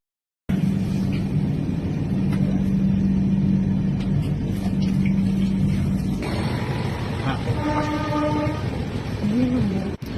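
A passenger train rumbles steadily as it rolls into a railway station near Hyderabad, with a continuous low drone and rattling, then brakes squeal in high tones toward the end as it slows.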